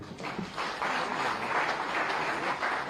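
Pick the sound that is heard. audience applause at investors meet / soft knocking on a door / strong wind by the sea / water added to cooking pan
audience applause at investors meet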